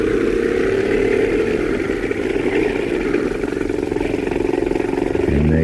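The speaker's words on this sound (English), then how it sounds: "Listen for the boat engine." A boat engine drones loudly and steadily throughout, a continuous mid-pitched motor hum that holds close and strong with no pause.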